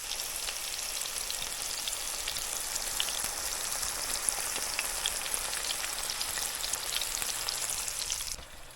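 Catfish fillets fry in a cast iron pan, giving a loud, steady, crackling sizzle with fine popping spatters that go on without a break, then drop away abruptly at the end.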